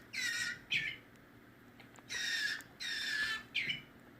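A baby bird squawks indoors in a house, five harsh, rasping calls in uneven bursts, close and fairly loud against quiet background noise.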